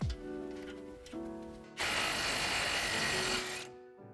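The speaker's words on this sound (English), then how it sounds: "using a 10 millimeter socket to remove this screw here that's holding the bracket for our brake lines and ABS" A power tool with a 10 mm socket buzzes as it backs out the brake line and ABS bracket screw on a 2021-2023 F-150. Short whirring bursts lead into a longer, louder continuous whine of about two seconds that then cuts off.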